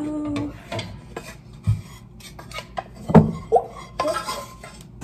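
Dough being dropped and worked into a bowl during home baking, with scattered clinks, scrapes and thuds of the bowl and utensils, fairly close and intermittent, with no talking.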